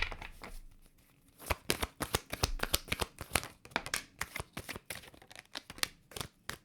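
Angels of Abundance oracle cards being shuffled by hand, a dense run of crisp riffling slaps and flutters in quick irregular bursts, close and clear with no talking.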